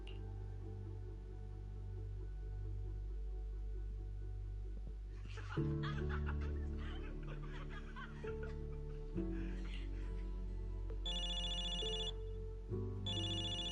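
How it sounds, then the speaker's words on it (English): In Zenless Zone Zero, a phone rings in a cinema as a repeating electronic ringtone. Soft game music plays underneath and a few chuckles come through, with the ringing strongest in short bursts toward the end. "I can hear someone's phone ringing from the back"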